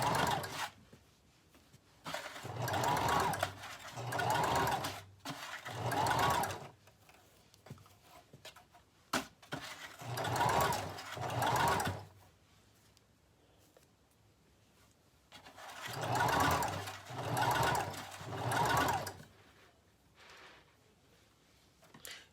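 A sewing machine runs in repeated bursts while gathering fabric for a ruffle dress, several stitching runs of a few seconds each separated by quiet pauses, with faint handling sounds in between.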